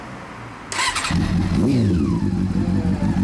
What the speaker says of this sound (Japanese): エンジンサウンド聞かせてくれるかな